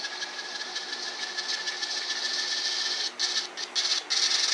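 An Atlas S2 N scale model locomotive with DCC sound runs forward on its track, giving a steady high mechanical whir with a faint hum, close and fairly quiet, with a few brief changes in tone near the end.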